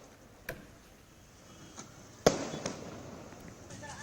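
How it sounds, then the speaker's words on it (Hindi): Firecrackers bursting in Delhi: a few scattered sharp bangs at a distance, one louder crack with a brief echoing tail, set against a faint background hum. "यहाँ पर पटाखे जो है वो फोड़े गए"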